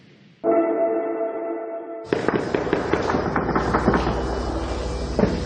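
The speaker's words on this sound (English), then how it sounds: "We can hear around gunfirings. There is no one on the road, in the streets. We can only hear a gunfiring." Gunfire in the deserted streets of Kabul: a steady droning tone gives way to a dense, continuous crackle of sharp shots, fairly loud and without talk.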